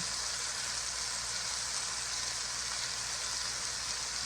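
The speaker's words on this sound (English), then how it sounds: "let it cook a little bit, just to kind of brown the ham" Ham browning in a pan seasoned with salt, chipotle spice and black pepper gives off a faint, steady sizzle that holds without a break.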